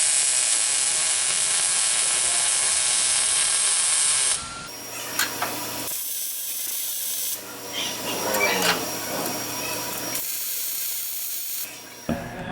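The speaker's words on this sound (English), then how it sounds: "we're getting ready to start welding it in place" Welding a rust repair panel into a car trunk floor coated with weld-through primer: a loud continuous hiss for about four seconds, then short bursts of crackling welding separated by quieter gaps.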